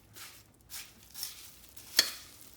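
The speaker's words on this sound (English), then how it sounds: "Mix them up good so that they all get nice and moist with that butter." Crushed cheese crackers are stirred with melted butter in a bowl, a soft scraping and crunchy rustling in several short strokes, with one sharper clack near the end, close and fairly quiet.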